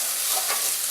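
Okra sizzling and being stirred in a hot pan, sticky and slimy as it fries for gumbo; a brief, loud, steady hiss up close.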